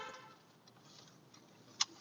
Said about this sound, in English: Gonna honk again.